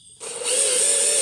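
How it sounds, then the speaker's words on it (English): Electric drill, not an impact driver, driving a fastener into plastic during harmonic balancer work on a 1999 Chevrolet Blazer: a short start, then a steady close high-pitched motor whine that holds to the end. "Now this is not an impact driver, this is just a drill."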